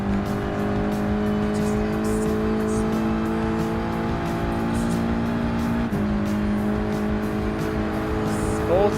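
Ford GT LM race car in Gran Turismo Sport roaring at full speed in a high gear, a steady loud drone that holds and then shifts briefly partway through, with no talking.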